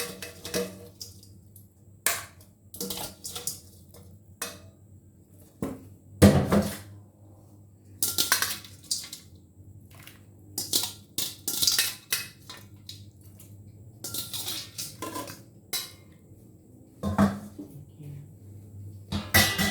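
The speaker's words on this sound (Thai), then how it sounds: "เราก็จะนำมาใส่หม้อนะคะ" Pork bones and pork belly for a Thai mixed-vegetable soup are dropped into a cooking pot, giving a series of close, irregular clunks and clatters of meat and metal spread through the clip.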